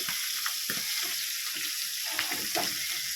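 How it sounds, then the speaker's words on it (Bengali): Pieces of bata fish and potato fry in hot oil, a steady crackling sizzle with small pops and occasional stirring scrapes, close and continuous, no voices. "এইখানে ভাজা হচ্ছে বাটা মাছের আলু"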